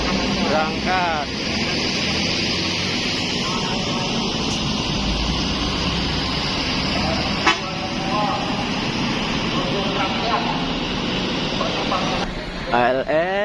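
An ALS bus with a new Laksana body rolls into a busy bus terminal, with a loud rumbling engine and a few horn toots near the end, heard under steady talk and announcements.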